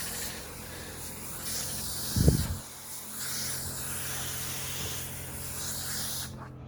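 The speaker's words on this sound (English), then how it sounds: "So this is the key, pre-spraying it on so it breaks the glue down." A spray bottle hisses out bursts of glue remover onto office carpet, several soft, brief sprays at close range against a quiet room, plus one louder thump partway through.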